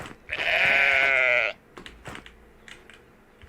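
A single loud, close bleat of a goat or sheep in a house-building video game, lasting about a second, followed by quieter clicks and faint background noise.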